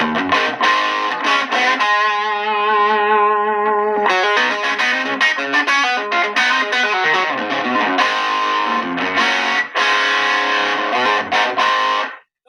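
Electric guitar on the bridge pickup through a VOX 50-watt amp at high gain, played alone for about twelve seconds: loud, heavily saturated distorted chords and sustained notes with a boxy tone, continuous and close.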